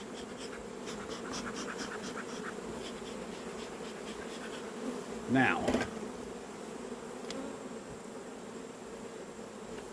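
Honey bees hum in a continuous low drone close by at an open hive, with a brief louder buzz as one passes near the microphone.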